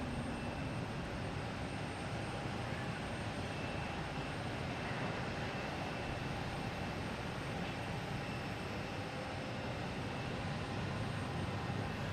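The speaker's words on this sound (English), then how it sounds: "We got a JetBlue here coming in from, looks like Milwaukee. A220." JetBlue Airbus A220 jet arriving from Milwaukee at Boston Logan Airport: a steady, moderately distant broadband engine roar holding at an even level throughout, with no voices.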